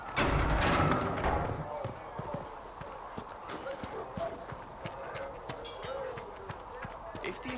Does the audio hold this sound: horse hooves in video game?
yes